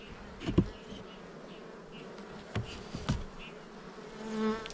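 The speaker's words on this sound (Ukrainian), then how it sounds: "Ото ну, бджоли в мене." Steady insect buzzing from many honeybees at a hive fills the background, with a few brief knocks and thumps standing out over the drone.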